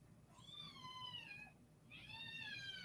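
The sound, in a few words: kitten meowing, begging for food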